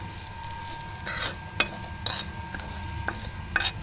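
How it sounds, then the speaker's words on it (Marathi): Vermicelli and seeds dry-roasting in a pan while a utensil stirs them: steady close sizzling with a series of sharp scraping strokes against the pan, no voices. "अगोदर मी भाजून घेतो हे शेवाया"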